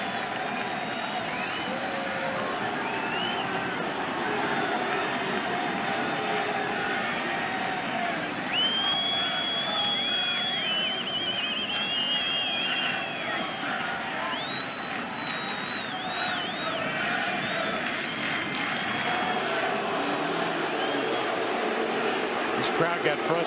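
Dense crowd noise filling a baseball stadium during an ALCS playoff game, steady murmuring with scattered shouts and whistles, heard under continuous broadcast commentary.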